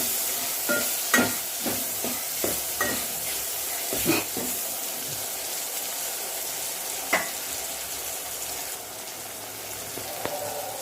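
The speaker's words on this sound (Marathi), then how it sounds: "त्याच्यात आपण टमाटर टाकून घेऊ. टमाटर चांगलं परतून देऊ." Onion and tomato frying in a pan for chicken dalcha, a faint steady sizzle with scattered soft clinks and stirring scrapes, louder in the first few seconds, no talk.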